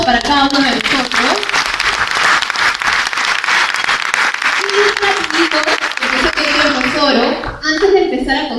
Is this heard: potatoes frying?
no